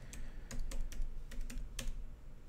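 A computer keyboard is typed on at close range, with irregular crisp key clicks in short bursts over a faint steady background hum and no speech.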